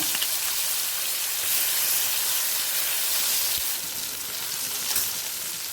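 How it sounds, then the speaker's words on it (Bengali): Raw banana peel paste dropped into hot mustard oil with a dried red chilli, giving a loud, dense, continuous hiss like heavy rain that holds steady close by, with no voices. "তেলটা গরম হয়ে গেছে এরপর দিয়ে দিচ্ছি খোসা বাটা"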